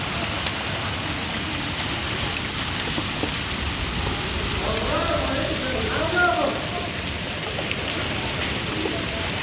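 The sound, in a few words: rain falling in Al Mahwit, Yemen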